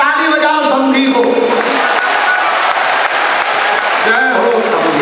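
Crowd applause at a mass wedding ceremony during Mahashivratri at Bageshwar Dham, a steady loud wash of clapping from a large audience with voices mixed in throughout.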